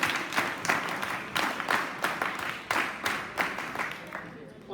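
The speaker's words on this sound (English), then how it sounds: "thank you, clap, go!" Audience clapping at a school Republic Day celebration at Kendriya Vidyalaya Srikakulam, repeated bursts of applause from a crowd in an outdoor gathering, fairly steady and mid-distance, with voices mixed in.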